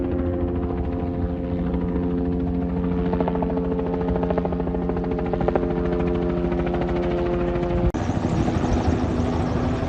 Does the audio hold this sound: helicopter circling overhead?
yes